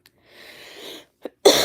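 A single breathy cough rasps out close by, followed by a short catch of breath and then the start of a louder burst.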